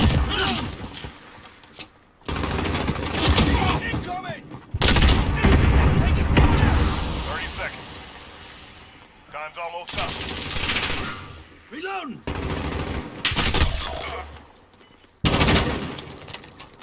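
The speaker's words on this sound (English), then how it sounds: "This dude's using a shotgun." Repeated gunfire from a shotgun-wielding player in the video game Call of Booty, loud blasts in bursts separated by brief silences, with someone talking over much of it.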